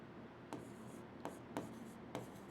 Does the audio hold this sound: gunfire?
no